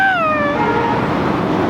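A person imitates a crying baby with a single drawn-out, falling wail that sounds much like a cat's meow, loud and close.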